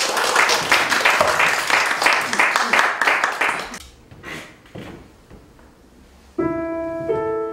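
A church program audience applauds loudly for a few seconds before the clapping thins out and fades. A sustained tonal chord then enters near the end.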